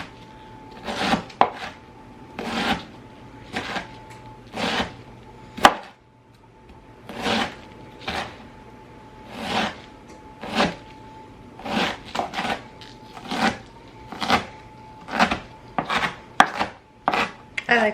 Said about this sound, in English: I'm just gonna thinly cut this cabbage.